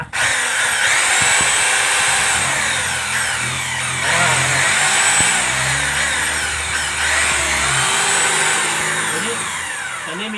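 Power drill running almost continuously for about ten seconds, a loud steady mechanical whine with slight shifts in pitch and load and no speech.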